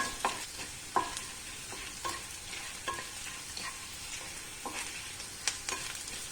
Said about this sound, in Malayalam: ഇപ്പോൾ ഏകദേശം മുളകൊക്കെ ഒന്ന് വറന്ന് വന്നിട്ടുണ്ട്